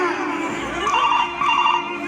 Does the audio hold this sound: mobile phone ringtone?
yes